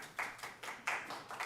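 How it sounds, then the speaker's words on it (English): Audience members clap in short, uneven bursts at a city council meeting, a few hands close by and fading quickly. "We can't have clapping."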